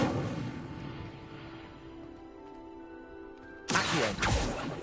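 In Hogwarts Legacy, the Incendio fire spell lights a pyre. A sustained tonal magical hum is cut off by a sudden loud whooshing burst of flame that roars for about a second.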